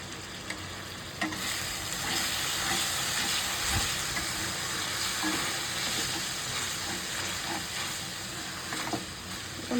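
Turmeric, salt and chili powder fry in hot oil, a steady broadband sizzle that holds evenly throughout with a few faint clinks of stirring, close and alone.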